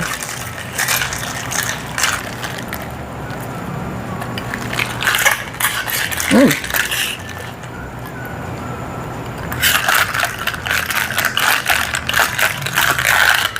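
A fruit soda drink of mango and watermelon is mixed, giving clinking, rattling ice and liquid sounds in uneven bursts, close and clear, with a brief fizzy pour in the middle.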